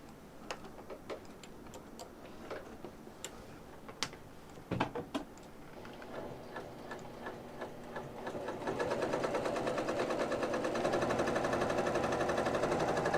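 Sewing machine running a straight stitch, starting with slow irregular ticks and clicks, then settling into a steady fast mechanical whir that grows louder toward the end, with no voices.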